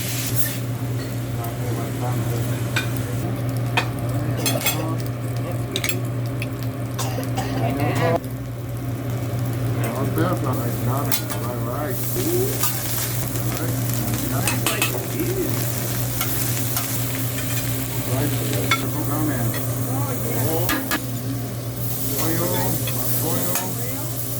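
Steak, baby lobster and shrimp fry and sizzle on a hibachi grill with steady spatula stirring and scraping, a loud continuous hiss under the clatter, and voices chatting in the background throughout.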